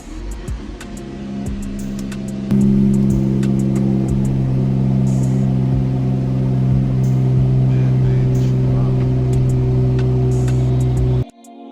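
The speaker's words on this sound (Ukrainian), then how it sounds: "підсніму вам холодний запуск" Mercedes E53 AMG engine cold start: a steady idle rumbles, then at the catch it jumps to a loud, high, droning fast idle that holds for several seconds before cutting off abruptly, heard up close.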